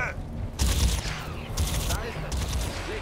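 A loud fusillade in Crysis 2 Remastered: heavy bursts of weapon fire come in waves, close and dense, with a voice faintly underneath.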